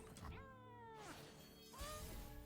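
A cat meows twice in the Legends of Runeterra Path of Champions video game, each cry a drawn-out, falling yowl, fairly quiet with a short pause between them.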